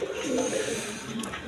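Red Rajgolla pigeons coo in a soft, continuous low murmur amid faint background noise, with no clear speech.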